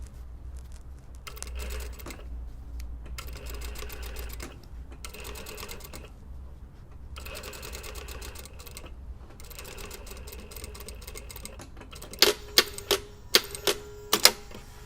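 Sewing machine stitching a skirt waistband in the ditch, running in steady bursts with short pauses, then a few sharp clicks and clacks near the end.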